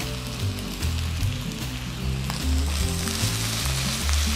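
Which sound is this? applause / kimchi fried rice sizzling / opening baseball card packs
kimchi fried rice sizzling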